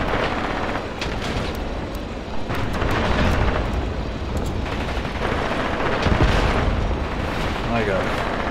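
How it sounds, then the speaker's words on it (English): Grenades exploding against a tank during a forest battle in the WWII tank game Panzer Shock, with dense, continuous booms and gunfire-like crackle overlapping throughout, loud and sustained with no pauses. "A lot of grenades at that poor tank."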